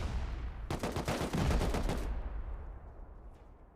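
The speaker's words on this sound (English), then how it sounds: "watching these rockets come through" Rockets slamming into base walls in the survival game Rust, a rapid, loud burst of overlapping explosive blasts lasting over a second, followed by a fading rumble and a faint distant pop.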